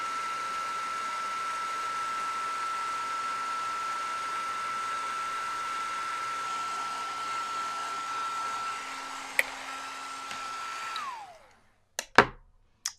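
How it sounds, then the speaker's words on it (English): A heat tool blows steadily while melting gold embossing powder on a stamped paper heart, a constant whooshing hum with a thin whine that runs about eleven seconds, then cuts off, followed by a few sharp clicks and taps. "And now I'm ready to melt it with my heat tool."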